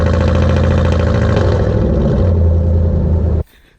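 A V8 engine without mufflers running in V4 mode gives a loud, close, choppy uneven exhaust burble like a tractor, steady until it cuts off abruptly near the end.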